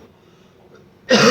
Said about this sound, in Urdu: گلا تھوڑا سا خراب ہو رہا ہے، کھانسی ہو رہی ہے